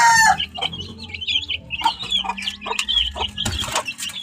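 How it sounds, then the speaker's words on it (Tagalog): Hens and week-old chicks clucking and peeping up close: busy, overlapping high chirps with occasional lower clucks, steady throughout with no talk. "Ito yung mga sisiw"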